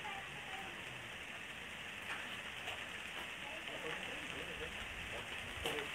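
Steady rain hisses and patters on a surface, a soft continuous wash with occasional louder drops, faint and even throughout.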